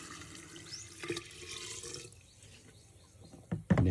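Boiled, uncooled water poured for homemade tambis fruit soda, a running splash building mid-clip and ending with louder clunks and splashes at the close.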